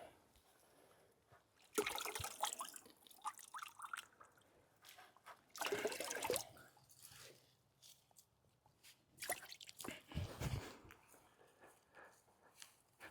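Moss is dunked and soaked in water in a backyard garden, with intermittent squishy splashes and dripping in several separate bursts, quiet and close, with soft trickles between them.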